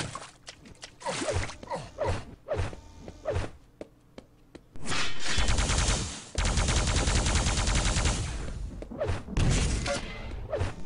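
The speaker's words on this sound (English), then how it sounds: "Good rocket spam there by Evil." Rocket launcher fire during a Quake duel on the House of Decay map: rapid, loud bursts and explosive blasts, with a dense sustained stretch of overlapping explosions in the middle and more sharp hits toward the end.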